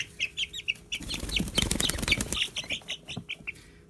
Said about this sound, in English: This is a really late blooming cockerel.